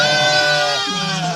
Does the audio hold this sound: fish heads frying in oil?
no